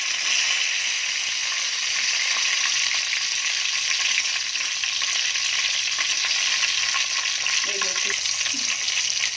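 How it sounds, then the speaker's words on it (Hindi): Mustard seeds and curry leaves sizzle in hot oil for a Konkani fish curry, a loud, close, unbroken hiss with fine crackles that stays steady throughout. "ये थोड़ी सी राई डाली, थोड़ा कड़ी पत्ता डाली,"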